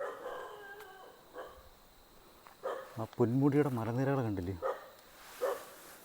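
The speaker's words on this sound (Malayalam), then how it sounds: "ഒരു പട്ടി കുരയ്ക്കുന്ന സൗണ്ട് കേൾക്കാം." A dog barks faintly in the distance on the Braemore tea estate near Trivandrum, with forest and hills around, while someone talks over it.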